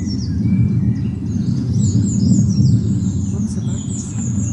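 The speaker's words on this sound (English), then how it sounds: "Lots of birds. Plenty of wildlife, particularly the birds this morning." Wild birds chirp and sing in a country park wood on a morning walk by the river, the thin calls fairly distant over a steady low rumble of outdoor noise.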